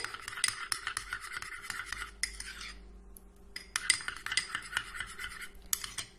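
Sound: mixing olive oil and other ingredients together

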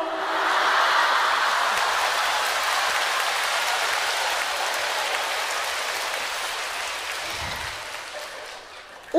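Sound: audience applause at a crosstalk show

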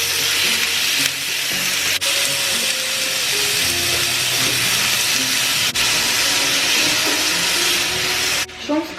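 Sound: frying fillet in a frying pan

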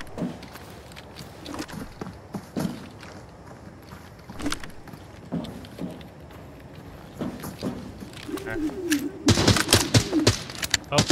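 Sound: gunshots fired at the player, from the video game Arena Breakout Infinite

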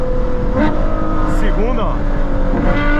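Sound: Ferrari F12 tdf engine downshifting

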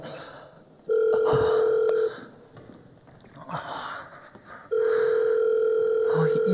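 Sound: telephone dial tone when placing a call

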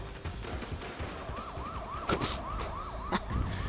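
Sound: sirens in Sleeping Dogs video game

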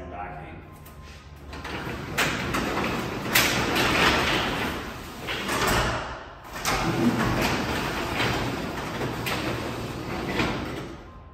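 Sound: garage door closing and opening

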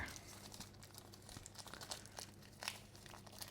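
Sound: tearing open a tough plastic package

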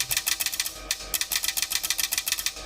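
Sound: clicking of car headlight lens shutter relay

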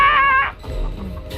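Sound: chicken clucking while chasing in Chicken Feet video game

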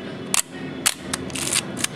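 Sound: Leica R3 camera shutter firing in manual mode

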